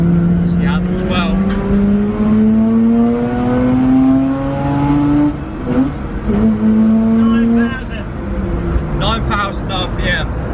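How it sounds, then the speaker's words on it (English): Mazda RX-8 rotary engine on a track, revving high toward 9,000 RPM with a rising, sustained wail, a brief dip and shift, then climbing again, loud and close with a voice talking over it. "She loves to rev. That's the great thing about rotaries."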